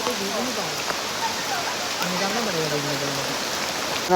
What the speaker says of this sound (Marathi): पावसाचं प्रमाण आता वाढलेलं आहे